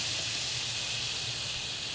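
Carnitas pork, leftover smoked pork, sizzles steadily on a preheated, oiled Blackstone griddle, a constant close hiss of frying with liquid running off, alone without any talk.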